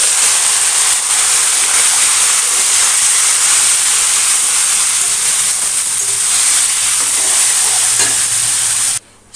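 Chopped ash gourd dropped into a spiced tempering with cinnamon and ginger paste, frying with a loud, continuous hissing sizzle up close that cuts off sharply at the end.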